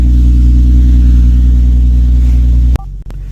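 An Infiniti FX37 (QX70) engine idles steadily with a low, even rumble, then cuts off abruptly near the end, leaving near silence.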